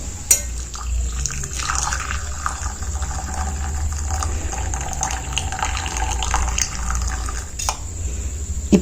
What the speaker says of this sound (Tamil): இப்ப நம்ம ஸ்டவ்வை ஆஃப் பண்ணிட்டு இந்த டீ தண்ணியை வடிகட்டி எடுத்துக்கலாம்